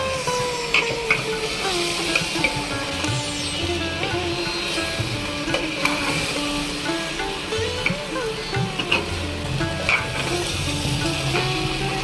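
Cumin seeds sizzle in hot oil for a home-cooked Bengali vegetarian Mahalaya meal, a constant close frying hiss with crackling pops and stirring scrapes, lasting throughout with a faint tonal hum in the background.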